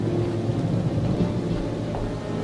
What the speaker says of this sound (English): I see that Baal is sending us rain.